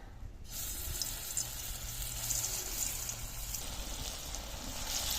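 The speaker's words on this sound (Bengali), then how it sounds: "সাদা তেল দিয়ে বড়াটা ভাজলে ভালো হয়" Lentil fritters (dal bora) fry in white oil in a hot wok, a quiet, even, continuous hiss and crackle of sizzling with no voices.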